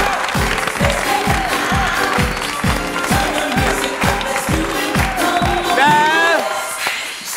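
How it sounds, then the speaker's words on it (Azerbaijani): An audience at a TV evening game show claps loudly in unison to a steady, even beat, with a brief cheer and whistle rising near the end before the clapping fades. "Auditoriya sizi sevir və alqışlayır."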